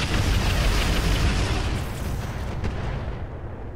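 Mech weapons firing in the Roguetech battle game, a dense rumbling barrage of booms and blasts at steady loudness that thins slightly toward the end.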